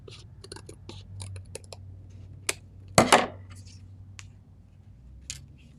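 Scissors trim the edge of a piece of craft foam, a series of crisp snips and clicks close up, with one louder cut in the middle, over a quiet background.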